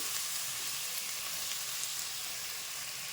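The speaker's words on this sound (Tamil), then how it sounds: "சீரகம் நல்லா வதக்கி விட்றேன்" Cumin, garlic and onion sauteing in hot oil in a pan, a dense continuous close sizzle and crackle running steadily throughout with no pauses.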